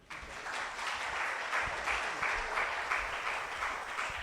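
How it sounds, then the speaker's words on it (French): An audience at a French round-table discussion applauds the panel guests, a skipper and shipyard builder, producing a soft, steady wash of clapping heard from some distance for a few seconds. "On peut encore les applaudir."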